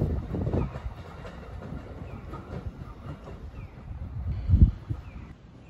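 A twelve-car Thunderbird limited express train passes at Sabae station on the Hokuriku Main Line, a faint, steady rumble with soft wheel clatter and a couple of louder thumps near the end, no one speaking.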